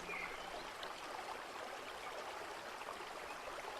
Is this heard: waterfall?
yes